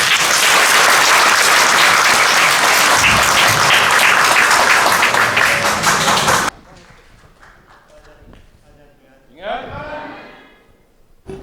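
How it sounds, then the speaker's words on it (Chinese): A church audience at a Presbyterian revival seminar gives a pastor loud, sustained applause for several seconds; it then cuts off abruptly to a quiet room where a voice begins talking. "接下来就让我们用最烈的掌声来欢迎蔡正道牧师为我们分享"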